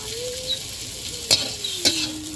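Mustard oil sizzling in a wok before tempering with dried chillies, a steady close crackle and hiss with a faint tonal hum underneath and two sharp louder spatters.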